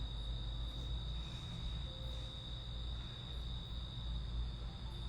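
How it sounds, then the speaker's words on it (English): Crickets chirp outdoors in the Philippines, a steady high-pitched trill that runs continuously over a low background hum with no voices. "I heard a cricket's really relaxing"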